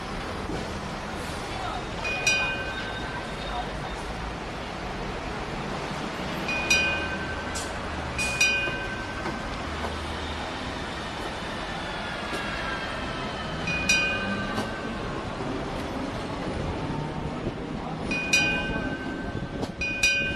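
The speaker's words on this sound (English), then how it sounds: "Now I'm riding the tram from Causeway Bay to Admiralty." Inside a moving Hong Kong tram between Causeway Bay and Admiralty, a steady rumble of wheels on rails fills the space, with repeated bright ringing dings breaking through every few seconds.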